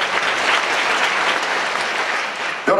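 An audience at a Korean church service for the deaf applauds, a dense, steady wash of clapping that holds loud and even for several seconds.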